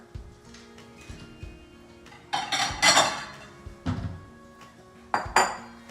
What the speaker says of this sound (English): I'm gonna transfer this into another bowl so it will cool quicker